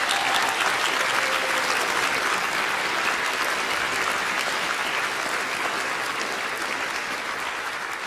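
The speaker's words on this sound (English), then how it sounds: "And so another applause, please, for our guests." An audience at a noontime music concert gives a sustained round of applause for the guest performers, a dense, even wash of many hands clapping that holds steady and eases slightly toward the end.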